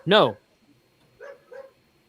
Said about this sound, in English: I've got to shut my dog up.